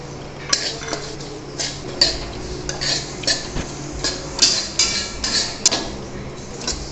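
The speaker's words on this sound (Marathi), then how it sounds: "हे मी आता चियाच्या बियात भाजून घेते" Chia seeds dry-roasting in a pan, a spatula scraping and clinking against the metal in repeated irregular strokes, close and fairly clear, with no talking.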